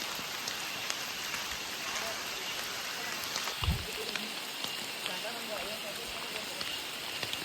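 Steady rain falls through a monsoon forest, a dense even patter on leaves and ground throughout, with one brief low thump partway through and no clear talk.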